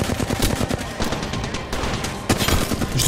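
Rapid gunfire in Apex Legends rattles in dense bursts, loud and close, with a brief lull mid-clip before another volley.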